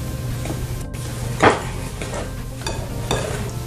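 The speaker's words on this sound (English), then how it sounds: "I'm just going to keep mixing this until it's all nice and combined." Chocolate chip cookie dough being stirred by hand in a bowl, giving soft scraping and thudding strokes at an irregular pace, close up, with steady low background noise and no talking.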